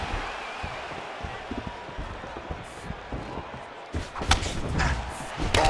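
Punches landing in the EA Sports UFC 4 fighting game, Bruce Lee against Ricardo Lamas, heard as a few dull thumps amid crowd noise and commentary, with a heavier impact burst near the end.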